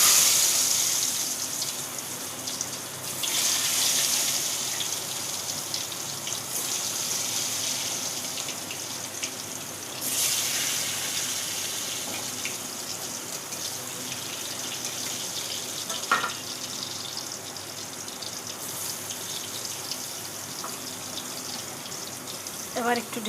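Eggplant slices frying in hot oil, a steady bright sizzle and crackle throughout, with occasional clinks of a utensil and a voice talking softly in the background.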